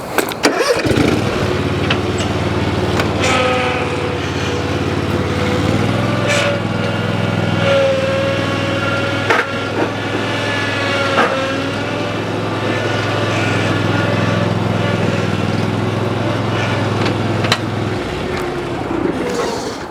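A zero-turn mower engine starts up and runs steadily as the mower drives up a wooden trailer ramp, a close, even engine drone with a brief rev and some faint talk.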